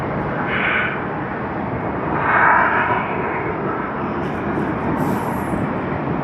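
A Boeing 787-10 Dreamliner at Tokyo Haneda Airport, a steady broad jet engine roar with a slight swell in the middle, heard at a moderate distance without speech.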